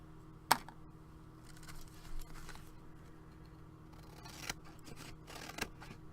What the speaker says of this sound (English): So I'm just going to take my scissors